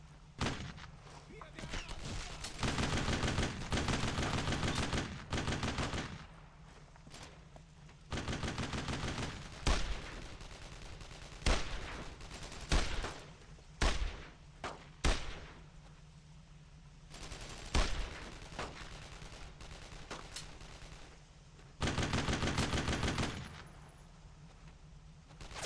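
Rifles and machine guns fire in a World War II Brothers in Arms: Road to Hill 30 battle, in loud sustained bursts broken by short pauses and separate single shots.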